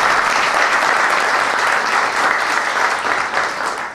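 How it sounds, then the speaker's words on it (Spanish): A concert audience at a chamber music event applauds continuously, a thick, even wash of clapping from many hands that holds steady throughout. "un aplauso para Chale."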